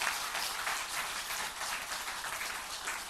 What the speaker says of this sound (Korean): 하나님께 우리 감사의 박수 한번 합시다